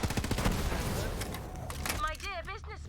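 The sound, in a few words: gunfire in Borderlands 3 video game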